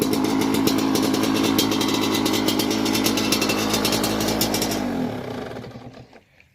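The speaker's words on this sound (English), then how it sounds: "Probably not going to be able to hear much over the dirt bike running here." Big bore Yamaha YZ125 two-stroke dirt bike with an FMF exhaust running close by, a loud rapid crackling buzz at steady idle that drops in pitch and dies away as the engine shuts off.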